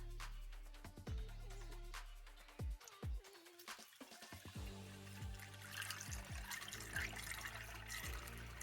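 Coolant trickles and gurgles as it is poured into a car's cooling system during a refill after a purge, a steady liquid flow heard up close and quiet, with occasional knocks and clunks.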